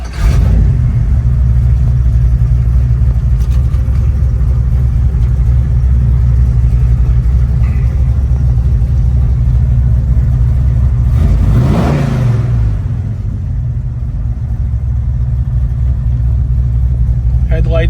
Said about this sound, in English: We're going to fire this thing up.